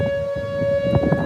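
Tornado siren during stormy weather, a steady sustained wail holding one pitch with overtones, heard outdoors at moderate distance with some low background rumble and no talk.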